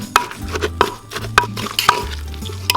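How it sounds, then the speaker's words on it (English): Eggplant pepper dip pounded in a mortar and scraped with a spoon, producing a series of close, rhythmic thuds and clinks spaced roughly every half second. "let's finish pounding it. I have a spoon here also to help me kind of scrape the bottom"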